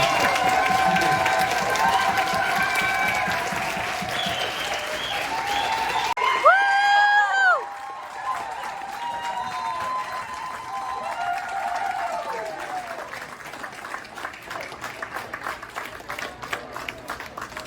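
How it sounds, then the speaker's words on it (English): Audience applause and cheering for youth presenters at a community event, loud clapping from a crowd with some voices and whistles mixed in, swelling and continuing for a long stretch. "But I just want to give them another round of applause for such a great"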